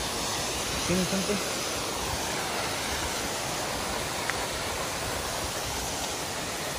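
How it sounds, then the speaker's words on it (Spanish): Steady rushing water roars without a break, a broad hiss like a small waterfall near Silverton, Oregon, heard from some distance, with a faint voice briefly underneath. "Esta es otra pequeña cascada que se ve desde"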